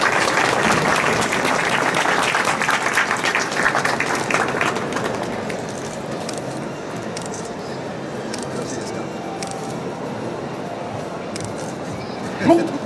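Audience at an awards ceremony for a latte art championship in Tokyo applauds in a broad, steady burst of clapping that fades after several seconds, with softer scattered claps and some talk afterward.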